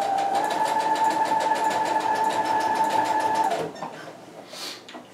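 Sewing machine running steadily for about three and a half seconds as it stitches elastic onto a spandex leotard, a loud continuous whir that then stops, leaving faint handling noises.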